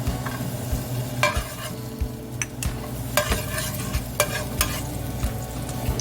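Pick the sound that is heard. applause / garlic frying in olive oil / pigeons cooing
garlic frying in olive oil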